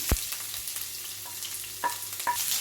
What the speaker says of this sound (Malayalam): നമ്മൾ എടുത്തു വെച്ചിട്ടുള്ള ഇഞ്ചി, വെളുത്തുള്ളി, പച്ചമുളക്, കറിവേപ്പില, സവാള എല്ലാം ഇട്ട് കൊടുക്കുകയാണ്